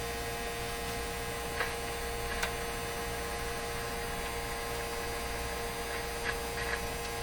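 A 1957 Chevy Model 561 car radio warming up gives a steady, faint electrical hum with a constant tone. Occasional soft ticks and crackles sit over it, and there is no talk.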